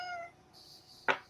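A cat gives a brief, thin meow near the start, followed by quiet room tone and then a sharp, loud burst of noise at the end.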